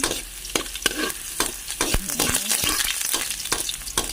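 Garlic frying in hot cooking oil in a pan, a steady close sizzle with sharp utensil taps and scraping strokes as it is stirred.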